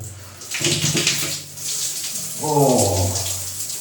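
A tap turns on and water gushes steadily into a basin, loud and close, with a brief murmur of voices partway through.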